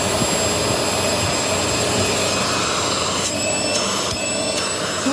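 A vacuum cleaner runs close and loud with a crevice tool on its hose, a steady high-pitched motor whine and airflow rush that holds without pause, with brief shifts in pitch as the nozzle moves.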